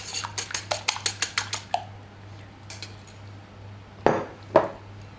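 Two eggs beaten with a whisk in a bowl while making chocolate walnut biscuits: a quick run of about ten rhythmic clinking strokes against the bowl, then a pause and two louder, sharper knocks near the end. No voices.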